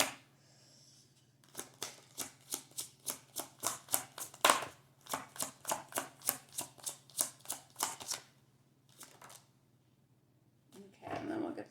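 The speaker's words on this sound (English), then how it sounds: "Well, I'm dropping cards." Tarot cards are handled and spilled close up in a quiet room, making a long series of sharp slapping flicks that speed up and then break off, followed by a few scattered card drops.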